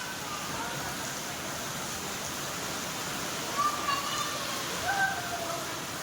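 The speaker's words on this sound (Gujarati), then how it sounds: "ધોકાર વરસાદ આવે છે." Heavy monsoon rain pours in a dense, steady broadband roar throughout, with brief faint tonal sounds rising above it midway.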